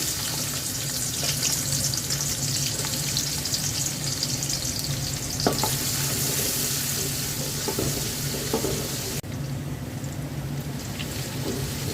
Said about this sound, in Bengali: খিচুড়িটা পাতিলাই তেল দিয়ে দিয়েছি পেঁয়াজ দিয়ে দিচ্ছি